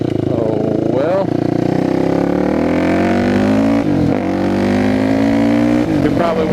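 A supermoto motorcycle engine running loud and close, its pitch rising and falling through gear changes as the bike accelerates, with a person talking over it.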